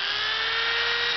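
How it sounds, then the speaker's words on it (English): Steady high-pitched whine of a drill with a dull bit boring into a gas can, a continuous loud grinding drone with a constant tone and no pauses, no voices. "I think this drill bit's probably dull."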